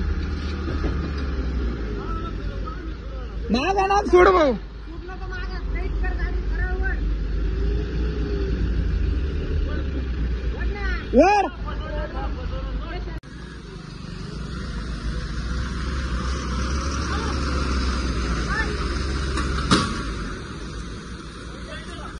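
A vehicle engine rumbles and strains steadily throughout while the vehicle is towed by a belt, with shouting voices and a couple of brief high whines over it.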